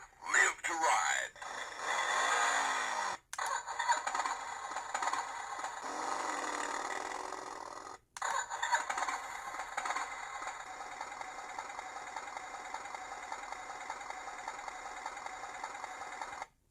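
A Buddy L Harley-Davidson Road King toy motorcycle running, giving a buzzing, whirring mechanical drone with a rattly motor sound that cuts out briefly twice before resuming steadily, with some talk near the start.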